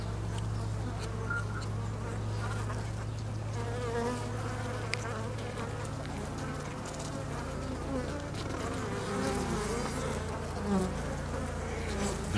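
Honeybees buzz continuously at close range around a queen on a comb, a dense, steady hum with no talking.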